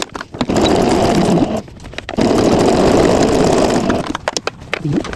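A sewing machine stitches a fabric glasses case in two long, loud, steady runs with a short pause between them, then stops in quick stuttering bursts as the fabric is adjusted.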